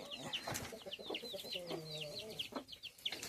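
Chickens cluck softly in short, uneven bursts, several calls overlapping at a quiet, close range.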